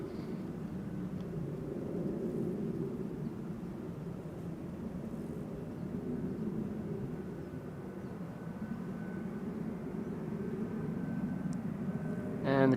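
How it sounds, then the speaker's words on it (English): An Icelandair jet and an Embraer 190 from Prague arrive at Amsterdam Schiphol, heard as a steady, distant low engine rumble that holds evenly throughout. "First one in the background already, Icelandair Flight 500, preceded by an Embraer 190 arriving from Prague"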